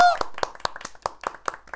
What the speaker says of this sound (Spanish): un aplauso motivacional